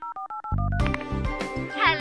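A quick run of about six telephone keypad dialing beeps in a cartoon, clear and evenly spaced, followed by a louder burst of other sound.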